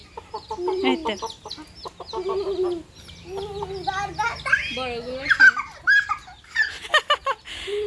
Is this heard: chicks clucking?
yes